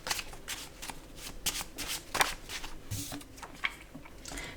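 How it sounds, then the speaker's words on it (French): Oracle cards being shuffled and drawn by hand, a rapid series of riffling, flicking bursts with soft slaps and pauses between them, close and fairly quiet. "Pour l'énergie générale, on va tirer une carte ici."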